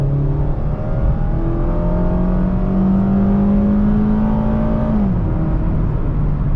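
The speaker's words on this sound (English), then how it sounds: "Pop into sport mode like so. Revs will go up a little bit and floor it." Mazda MX-5 Miata RF GT with an automatic gearbox, put in sport mode and floored onto a highway, its engine note climbing steadily for several seconds before an upshift drops the pitch. The sound is loud and continuous from inside the cabin.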